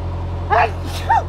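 A single short sneeze from a person aboard a narrowboat on the Middlewich Canal, quick and fairly close, followed by a softer second burst over a steady low engine hum.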